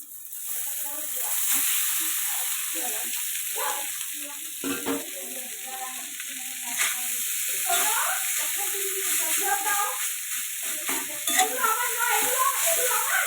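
Potatoes and rice fry and sizzle in a pan, with steady stirring and scraping of a utensil across the pan surface running throughout, the frying hiss loud and close.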